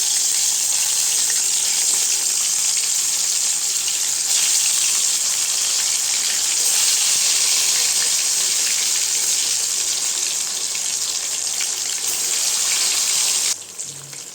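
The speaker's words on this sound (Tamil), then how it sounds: "எண்ணெய் சூடாயிடுச்சுங்க கத்திரிக்காய் அதில் போட்டுடலாம்" Marinated brinjal pieces hit hot oil in a pan, setting off a loud, steady, hissing sizzle that runs unbroken for most of the clip before easing slightly at the end.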